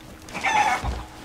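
A chicken in the pirate video game Sea of Thieves gives a short clucking call, a brief nasal burst in the middle, heard fairly close over quiet game ambience.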